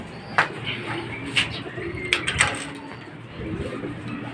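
Pigeons cooing in a loft on race loading day, several soft cooing calls at irregular intervals over a faint background, with occasional clatter.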